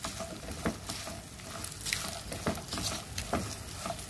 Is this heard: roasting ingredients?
yes